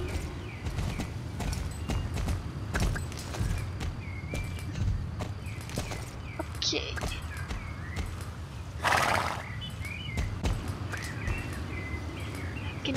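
A horse whinnies once amid steady clip-clop of hooves and outdoor ambience in Star Stable Online, with faint birdsong in the background.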